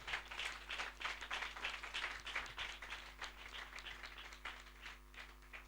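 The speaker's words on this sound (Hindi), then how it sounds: "ताली बजाकर उस परमेश्वर का धन्यवाद दें" A church congregation claps together in thanks during a Hindi-language sermon, a soft, distant patter of many hands in a reverberant hall, fading slightly toward the end.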